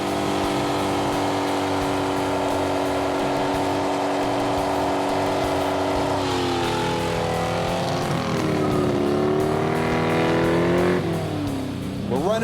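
A 1967 Pontiac LeMans held on a line lock doing a burnout, engine roaring at sustained high revs with rising and falling pitch and tire squeal, loud and continuous.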